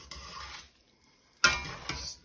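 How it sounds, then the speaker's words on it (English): Shanghai noodles and wild mushrooms stirred in a pan, two bursts of scraping and sizzling separated by a brief quiet gap, close and fairly soft. "Stir it up."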